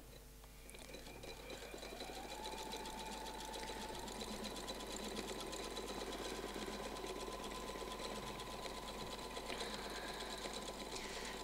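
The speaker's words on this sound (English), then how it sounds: "I'm now going to sew the other side." A domestic sewing machine stitches quilted feathers along a template, running steadily and continuously with a fast, even needle rhythm and a motor whine close by, with no talking.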